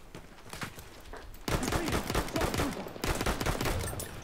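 Gunfire in Battlefield 1 during a Conquest match, rapid overlapping shots and bursts from several weapons, close and loud, growing sharply denser partway through as a firefight erupts.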